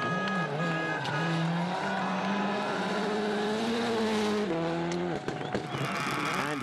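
A WRC rally car races a stage of the 2009 Rally Portugal, its engine loud and close, rising and falling through repeated gear changes with a brief dip near the end.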